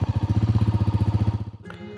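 A Royal Enfield-style Classic 350 motorcycle engine thumping close by with a loud, steady single-cylinder pulse that cuts off abruptly near the end.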